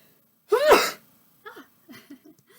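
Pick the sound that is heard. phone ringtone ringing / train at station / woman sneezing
woman sneezing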